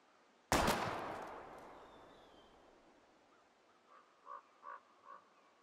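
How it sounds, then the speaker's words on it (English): A single loud gunshot aimed at bottles in the video game Life is Strange rings out sharply and decays slowly, followed a few seconds later by several short, fainter clinks or chimes. "We're gonna shoot all these bottles without wasting a single bullet."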